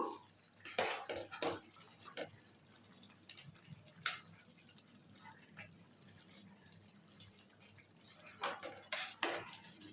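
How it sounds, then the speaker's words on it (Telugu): A pot of mushroom biryani is stirred with soft scraping and wet shuffling, broken by scattered metallic clinks and a couple of sharper knocks as the lid goes back on, all fairly quiet and close. "కలబెట్టి మళ్ళీ మూత పెడదాము"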